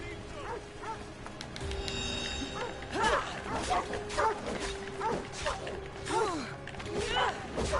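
A dog barks repeatedly in Assassin's Creed Odyssey: a series of sharp yips and barks over game mechanism noise and ambience, fairly close and moderately loud, with a voice talking around it.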